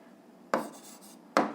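Two quick marker or chalk strokes on a classroom board, each a short scratchy scrape about a second apart, close and fairly quiet over a near-silent room.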